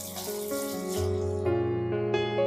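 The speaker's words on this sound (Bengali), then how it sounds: "দিয়ে দেব জল।" Water runs into a bowl of rice for washing and soaking, a continuous close gurgling pour whose pitch climbs as the bowl fills.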